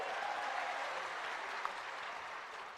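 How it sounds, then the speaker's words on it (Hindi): Crowd clapping at a large political rally in Madhya Pradesh welcoming a party's national president, a continuous dense wash of applause from a big audience that slowly fades, with faint voices underneath. "जरा जोरदार तालियों से उनका स्वागत करो।"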